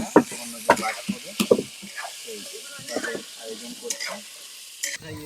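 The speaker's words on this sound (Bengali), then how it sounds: "এখন কাঁকড়ার যে ছোট পা আছে ওটা ভাজি করা হচ্ছে।" Small crab legs fry in a pan with a soft, steady sizzle, broken by irregular clacks and scrapes of stirring, heard close by.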